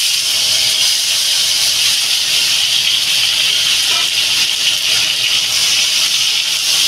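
Cut potatoes and tomatoes hit hot oil in a wok, giving a loud, close, continuous hissing sizzle that holds steady and even throughout.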